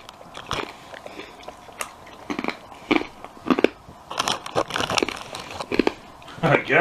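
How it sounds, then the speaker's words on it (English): Close, loud crunching as Golden Flake crackling strips are bitten and chewed, with irregular brittle snaps and crackles repeating over several seconds. "I hear it crunching all the way across the room"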